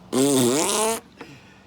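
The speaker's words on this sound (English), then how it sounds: "A fart is natural." A single fart, one sustained buzzing, pitch-wavering blast lasting just under a second, loud and close, followed by a faint brief tap.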